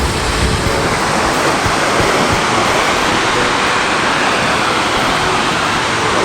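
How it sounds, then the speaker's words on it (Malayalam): A large, tall waterfall at Mannavanur near Kodaikanal gives off a loud, steady, close roar of falling water that fills the whole stretch without a break, with some wind rumble mixed in. "വലിയ വലിയ വെള്ളച്ചാട്ടങ്ങളും കണ്ടോ നല്ല ഹൈറ്റുണ്ട്"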